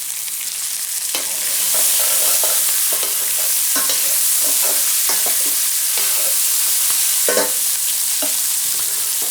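Sliced vegetables with their skins on hit a hot pan and sizzle loudly and steadily, broken up by repeated scrapes and clacks of stirring.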